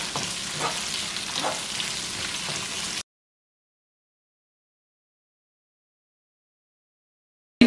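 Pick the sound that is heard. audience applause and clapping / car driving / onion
onion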